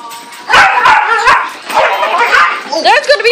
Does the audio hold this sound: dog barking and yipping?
yes